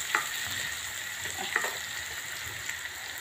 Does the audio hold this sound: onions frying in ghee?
yes